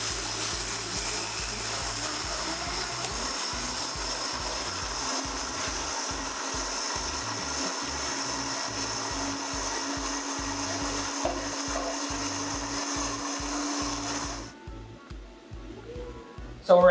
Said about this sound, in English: that's my mix for what's going into the blender